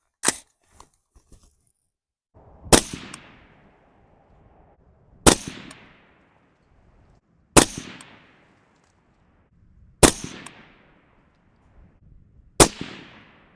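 Six sharp, loud AR rifle shots ring out at a 100-yard range, spaced a few seconds apart, each cracking hard and then decaying into a short echo, with silence between them.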